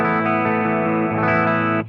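Electric guitar played through a pedalboard with compressor and distortion but no buffer, a sustained distorted chord with a slight change midway, loud and close before cutting off at the end.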